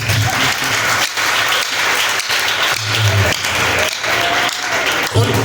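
A church audience breaks into loud, sustained applause, many hands clapping in a thick, continuous roar with slight swells and dips, close and energetic throughout.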